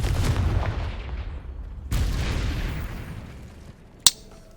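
Confringo explosion spell in Hogwarts Legacy, two booming blasts that fade out into a decaying rumble, followed by a sharp crack near the end.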